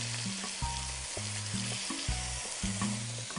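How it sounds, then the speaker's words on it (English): Marinated meat pieces sizzle and fry steadily in a hot pot, a close, continuous crackle with a low repeating hum running beneath it and no one speaking. "Brown the other side for each of those pieces."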